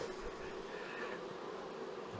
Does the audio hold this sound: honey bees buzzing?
yes